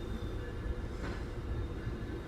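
A train pulls into a station platform on the Toronto line toward Mount Dennis, giving a steady low rumble of rolling railcars with a faint brief squeal partway through, no voices.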